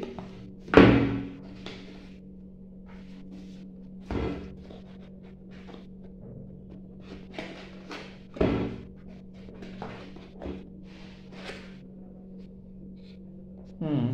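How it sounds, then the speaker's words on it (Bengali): Cardboard packaging for a Dahua IP camera being handled and opened, with three solid thuds spaced a few seconds apart and light scraping and rustling in between, near and moderately loud. "তো এখন আমরা এটি একটু আনবক্স করে দেখাবো আপনাদেরকে। এটি খুলছি।"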